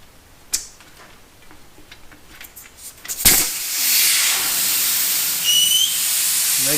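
Air rushes out of a bike tyre valve as its core is unscrewed, a loud steady hiss beginning abruptly after a few faint clicks and continuing strongly to the end.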